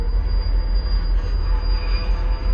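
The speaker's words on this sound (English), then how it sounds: "Then you got an actual train right there moving out." A train rolls out of a rail yard beside a train museum in Barstow, a loud, steady rumble with a high metallic wheel squeal held throughout, close by.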